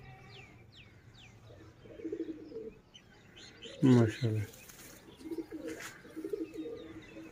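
Sialkoti Shekhan wale pigeons coo in low, repeated rolling calls close by, mixed with sharp chirps and a brief flutter of wings, while someone speaks briefly over them.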